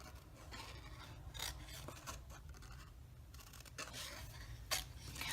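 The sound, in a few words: cutting out cardstock by hand with scissors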